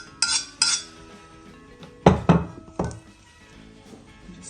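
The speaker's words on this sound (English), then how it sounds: "So the liquidy ingredients now get stirred into the oats." A spoon stirs warm liquid ingredients into oats in a saucepan, making a few sharp metallic clinks and knocks against the pan followed by softer scraping movements, close by.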